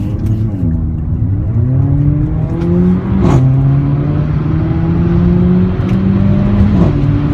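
A Mercedes-Benz CLA45 AMG engine revs loudly and close, its pitch climbing and dropping through several rising sweeps with brief dips between them, with no talk over it.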